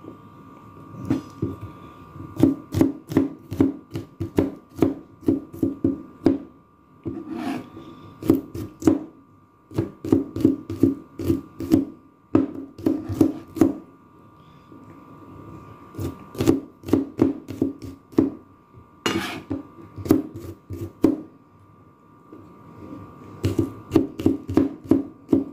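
Garlic is chopped with a knife on a cutting board in a home kitchen, rapid close knocking bursts in repeated runs separated by short pauses, steady and fairly loud.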